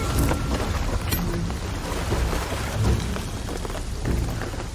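Heavy rain in a Shadow of the Tomb Raider video game scene pours down as a dense, continuous roar, with low thunder rumbling underneath and no talk.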